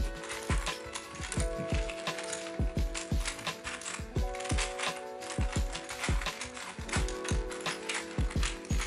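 A custom Penta Prism twisty puzzle being turned by hand, with rapid clicking, clacking pieces snapping into place in quick irregular bursts, close and crisp with no voices.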